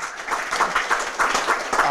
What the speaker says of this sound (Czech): Tak mu taky zatleskejte.